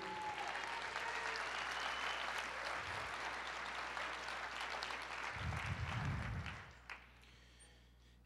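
A church congregation applauds together, a steady, dense wash of clapping that carries for several seconds and then tapers off quickly.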